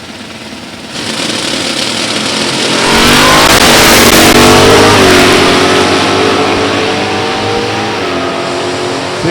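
A 1967 Chevelle drag car with a small-block engine launches from the left lane at a drag strip and accelerates hard, its loud, rising engine roar swelling after a quieter start and holding at full throttle with no talk.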